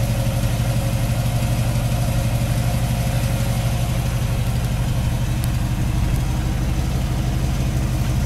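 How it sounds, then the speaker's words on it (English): A 1957 Chevrolet Bel Air engine with a new timing chain, cam, lifters and carburetor idles steadily, a close, even low rumble that holds constant throughout with no voices. "the engine runs fantastic"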